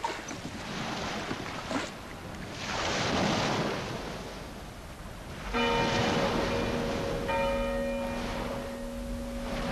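Church bell striking half past eight on a foggy coast: two ringing strokes with long humming decays, the second about two seconds after the first, over rolling surf and gusting wind.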